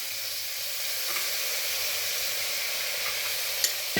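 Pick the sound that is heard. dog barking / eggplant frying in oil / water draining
eggplant frying in oil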